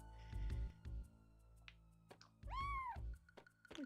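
A cat meows once in Chrono Cross, a short rising-then-falling cry that stands alone among soft game sounds and a few thumps.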